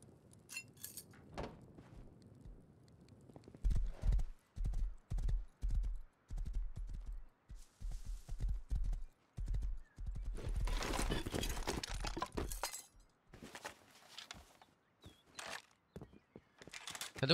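Horse hooves clip-clopping in the survival game Rust, a run of sharp repeated hoofbeats in a steady gallop rhythm, loud and close, with a brief burst of other game noise partway through.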